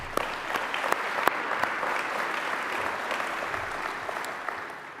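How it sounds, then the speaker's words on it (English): Audience applause at the I/ITSEC 2024 opening ceremony, a steady wash of many hands clapping that carries on evenly for several seconds, with a few sharper individual claps standing out. "Can we give them a round of applause?"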